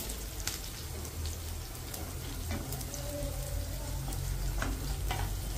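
Green chilies frying in oil for Maharashtrian vermicelli upma, a steady, dense crackling sizzle that runs unbroken throughout, close and fairly loud, with a few sharper pops.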